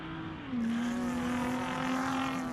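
A Lotus race car at a hillclimb powers through a chicane, its engine note holding a sustained tone that dips slightly and then steadies, heard at moderate distance and fairly faint.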